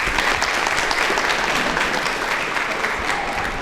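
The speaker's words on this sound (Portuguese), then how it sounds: "salva de palmas" An auditorium audience at a law school mock trial gives dense, steady applause with many hands clapping together, sustained at even loudness throughout with a faint murmur underneath.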